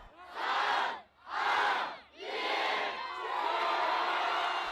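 Massive New Year's crowd on the Champs-Élysées in Paris cheering at fireworks, with loud roaring waves of voices in two short surges followed by a longer sustained cheer.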